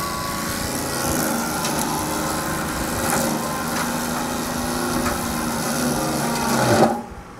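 A John Deere 4052R tractor drives a brush mulcher that shreds a tree, making a steady loud mechanical whine and grinding drone that strains briefly and then cuts off abruptly near the end as the tractor stalls.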